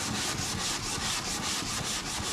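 Rhythmic hand sanding of a Mercedes A45 AMG body panel with a flat sanding block, steady back-and-forth rasping strokes, close and continuous with no talk.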